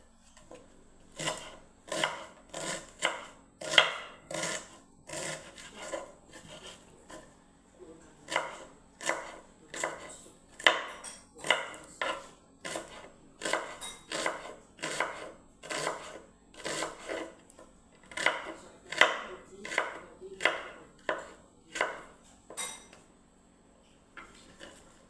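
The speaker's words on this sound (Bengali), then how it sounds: "পেঁয়াজ কাটছি বন্ধুরা, দেখুন" Onions being finely chopped with a knife on a board, a steady run of crisp close taps repeating quickly over a faint background hum.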